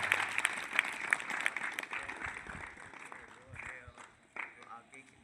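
Audience applause at a Republic Day program at a Vedic gurukul, steady clapping from a crowd filling the room, then thinning out as a voice speaks over the fading claps.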